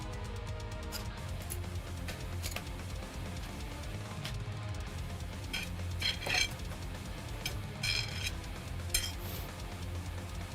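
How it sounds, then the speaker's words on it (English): Onion sautéing in a pan for a basic chickpea curry, a steady low sizzle with occasional clinks and scrapes of a utensil against the pan. "Get the onion sauteing."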